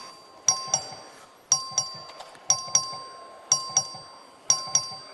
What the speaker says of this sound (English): This is a record vote. The clerk will ring the bell.